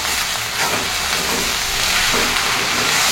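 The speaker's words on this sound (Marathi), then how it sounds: "मेथी चांगली परतून बारीक झाली की त्यामध्ये मग मीठ सोडायचं।" Fenugreek leaves sautéing in a pan give a steady, broadband sizzle and hiss that stays loud and even throughout, with no talking.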